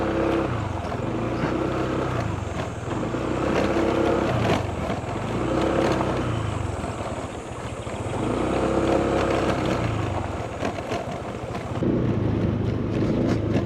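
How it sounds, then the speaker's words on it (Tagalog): A motorcycle rides over a rough, bumpy unpaved road, its engine a steady drone with continuous wind buffeting the microphone throughout, no voices. "Kayang-kaya naman po ng motor dito."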